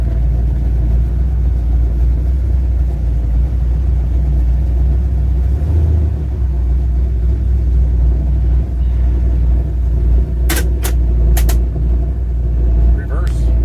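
A 1966 Chevy Nova's engine rumbles low and steady in first gear, with a continuous deep drone from inside the car and a voice talking over it.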